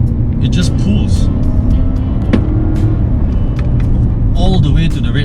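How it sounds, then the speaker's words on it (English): A turbocharged Lexus NX accelerates hard from inside the cabin, with a loud, steady engine and road roar that builds continuously and is accompanied by faint intermittent clicks and rattles. "I love the way the car accelerates."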